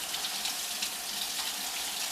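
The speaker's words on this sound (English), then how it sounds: "I'm running my hand under cold water." Cold water runs steadily from a kitchen tap over a hand, a continuous soft hiss and splatter at close range with no talking.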